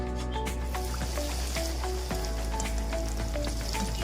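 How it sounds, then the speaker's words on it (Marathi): Homemade snacks deep-fry in oil over a slow-to-medium flame, giving a steady soft bubbling sizzle at moderate volume over a faint tonal background hum. "आता याला आपण तळून घेऊया।"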